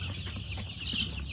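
Two-week-old broiler chicks in a backyard postal-style coop cluck and peep softly and continuously, a dense low flock murmur with a few brighter chirps rising through it.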